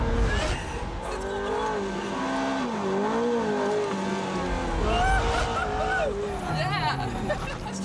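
Car braking hard and skidding on a track at a Fast Club driving day, with squealing tires sliding over a steady engine roar while people talk and chatter nearby.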